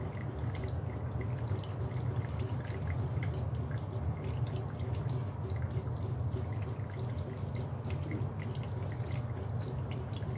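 Water runs steadily into a kitchen sink while potatoes are washed by hand, a constant close splashing and trickling with scattered drips.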